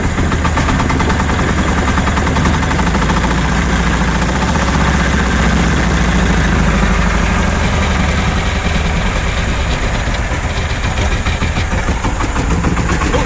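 A Shifeng 240 tractor's diesel engine idles with a loud, steady, rapid knocking thrum that runs close and unbroken from start to finish.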